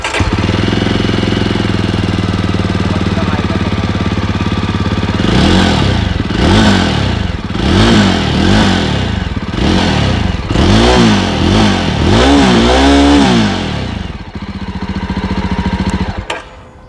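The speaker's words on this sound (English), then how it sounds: "So I'm just going to fire up the engine and show you how the exhaust sounds." A Jawa 42 Bobber motorcycle idles steadily, then its engine and exhaust rev up in a series of about eight sharp, loud throttle blips with falling decay between them, before settling back to idle and cutting off.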